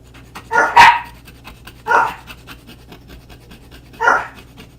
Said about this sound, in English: My dogs are crazy.